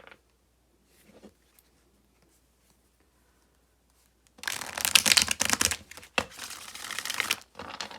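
Oracle cards are shuffled by hand after a few seconds of near silence, giving a dense, crisp riffling and crinkling run with brief pauses, close and fairly loud, with no talk.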